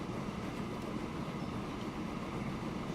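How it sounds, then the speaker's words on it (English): Freight train of gondola cars rolling past close by, a continuous rumbling roar of wheels and rails with faint rhythmic clatter, steady and unbroken, with no talking. "They really need to paint this train."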